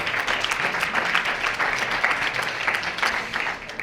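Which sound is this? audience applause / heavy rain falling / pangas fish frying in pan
audience applause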